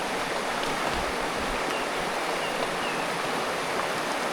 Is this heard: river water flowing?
yes